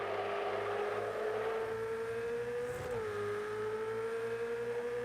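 A Ferrari 488 GT3 race car in Project Cars 2 at Imola holds a loud, steady engine note that dips briefly as it brakes, then climbs again under throttle, close and continuous with no talk.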